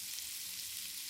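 Salmon and chopped ginger fry together in a very hot pan, giving a steady, faint, hissing sizzle with no talking.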